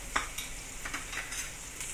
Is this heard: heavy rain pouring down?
no